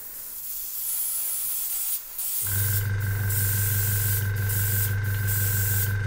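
An airbrush starts spraying paint onto a Warhammer model after a quiet hiss, then runs as a steady, close hissing spray with a constant compressor-like hum, sustained to the end with brief pauses in the air.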